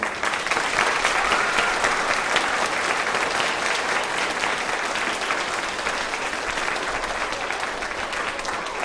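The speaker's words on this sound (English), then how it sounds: "Let's give a huge round of applause to Dr. Dulniak." Sustained applause from a large crowd, loud and steady throughout with dense overlapping clapping and no voices standing out.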